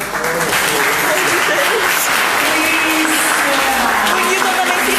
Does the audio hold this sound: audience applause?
yes